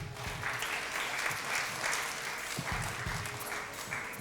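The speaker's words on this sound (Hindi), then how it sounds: "बहुत सारी तालियां इनके लिए।" A studio audience on a Ramadan quiz show applauds a correct answer, a steady, moderately loud wash of clapping with a few low thumps underneath.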